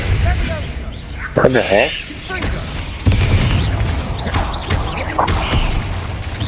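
Confringo spell blasts from the Hogwarts Legacy video game, booming thuds that burst out repeatedly across the stretch, loud and close, with a voice exclaiming over the top.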